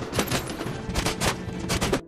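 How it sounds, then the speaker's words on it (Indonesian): Rapid bursts of gunfire in a film shootout, several sharp volleys cracking close and loud in quick succession, with no talk over them. "hingga terjadilah aksi tembak-tembakan"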